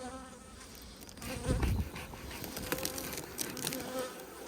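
Honeybees buzzing steadily at an open hive during an anti-swarm inspection, a dense close insect hum filling the whole clip with a few louder passes as bees fly near.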